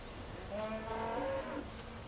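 A single cow lets out a drawn-out moo on a farm, moderately close and lasting about a second amid quiet outdoor background.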